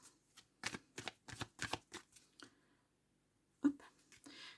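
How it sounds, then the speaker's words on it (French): A deck of oracle cards is cut and shuffled up close. Quick papery riffles and flicks come in a burst, then a pause, then a few final taps. The sound is soft and heard alone. "on va faire une coupe avec ce grand oracle"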